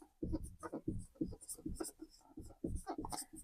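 Writing on a board during a chemistry lecture makes quiet, close, rhythmic strokes and scratches in quick bursts.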